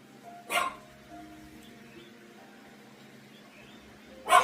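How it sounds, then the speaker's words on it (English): A small dog on a settee in a home gives two short sharp yips a few seconds apart, with quiet room sound between them. "It's little Sparkles, the little dog that we're babysitting for a few days with Andy on the settee."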